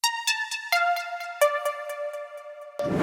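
A bright synth from the Done 2 virtual instrument plays a few clean, bell-like sustained notes stepping downward, close and moderately loud, followed by a short burst of noise at the end.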